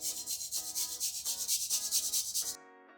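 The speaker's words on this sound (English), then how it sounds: "Then goes in a couple of cloves of freshly grated garlic" Fresh garlic cloves are grated into a bowl, a rapid rhythmic rasping scrape of about a dozen quick strokes, close and clear, ending abruptly in quiet.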